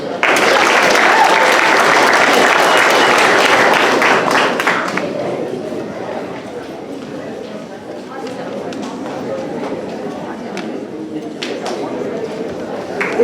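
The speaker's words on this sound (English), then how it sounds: "Let's give them another round of applause." An audience at an 8th grade academic awards ceremony gives loud sustained applause for about five seconds, then it thins to scattered claps and crowd murmur.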